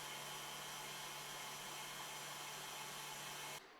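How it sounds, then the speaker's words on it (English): An electric stand mixer whips marshmallow with a whisk while sugar is poured down the side of the bowl, giving a steady, loud motor whine that runs unbroken and then cuts off near the end. "While this mixer is going, I'm slowly pouring my sugar onto the side of the pan."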